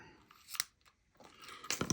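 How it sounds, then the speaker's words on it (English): Scissors snip ribbon in a couple of quick, close cuts for a gift craft project, with faint handling rustle between the sharp crunchy strokes. "These are not the scissors I like normally for cutting my ribbon"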